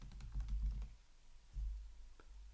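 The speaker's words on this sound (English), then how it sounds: "I'm going to start first by typing in the product or the SKU name" Keys tapped on a computer keyboard in two short bursts of quick, soft clicks with a pause between, heard close and quiet in a still room.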